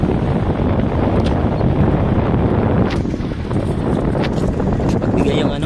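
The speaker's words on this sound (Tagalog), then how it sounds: "Maulan tapos malakas ang hangin." Strong wind roars and buffets the microphone continuously, a loud, dense rush throughout.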